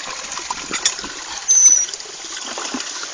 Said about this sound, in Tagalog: Buhos ka na ng tabo.